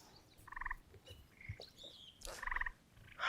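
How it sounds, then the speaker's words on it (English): Birds chirp and trill among trees in a calm outdoor morning setting, two bright bursts of repeated high notes near the start and again toward the end, with softer calls scattered between and low rumbling in the background. "There's lots of birds in the trees."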